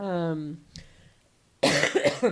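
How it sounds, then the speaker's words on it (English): A voice trails off, then a sharp burst of coughing breaks out close by, loud and rough. "I'm having some coughing"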